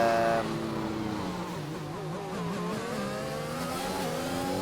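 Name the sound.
race cars accelerating down a straight in a racing video game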